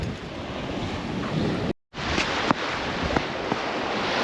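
Ocean surf washing steadily onto a beach where crabs are being snared, a continuous broadband roar with wind buffeting the microphone, a brief dropout partway through and no voices.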